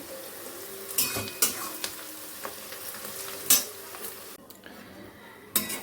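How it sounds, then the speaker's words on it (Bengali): Onions frying in oil in a pan for homemade chicken biryani, a low steady sizzle with several sharp clinks and scrapes of a spoon stirring against the pan, close up and without talking. "চলো পেঁয়াজটাকে আগে ভালো করে ভেজে নিই"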